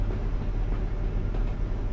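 Continuous low rumble of a train running alongside in Euro Truck Simulator 2, heavy and steady throughout, with soft irregular clatter and no voices.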